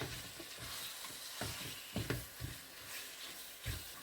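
Minced meat fries with garlic in a pan for spaghetti, a steady close sizzle broken by several sharp scraping stirs of a spoon.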